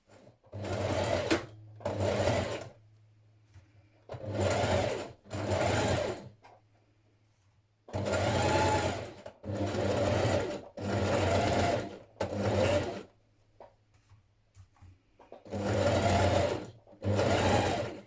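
A sewing machine stitches a pocket flap onto a coat in a run of distinct bursts, each lasting about a second, separated by short pauses. A low steady motor hum carries through the gaps, and there is no talk.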